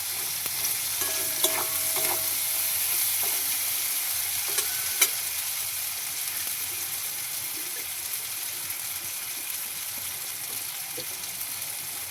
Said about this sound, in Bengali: এবার ভালোভাবে এটাকে মিক্সড করে নেব